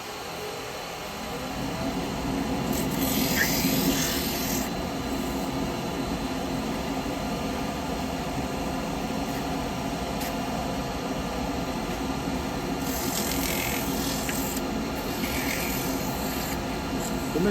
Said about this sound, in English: I'm going to just sand the inside of that.